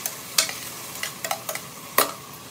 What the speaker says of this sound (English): my mushrooms and Brussels sprouts have been sauteing